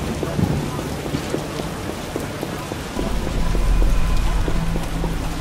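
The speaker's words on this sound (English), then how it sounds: "Raining cats and dogs." Heavy rain falling in The Witcher, a dense, loud, continuous hiss with distinct drops pattering, and a low rumble of thunder rising partway through.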